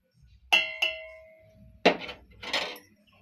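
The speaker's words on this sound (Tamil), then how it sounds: "இப்போ இட்லி பாத்திரம் வச்சுருக்கோம்." A metal idli steamer pot being set down, two quick ringing clanks with a lingering metallic tone, then two duller scraping knocks a moment later, close and alone.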